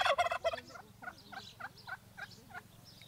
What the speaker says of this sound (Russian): И почему ты тоже один, хотя индюки такие стадные животные, птицы.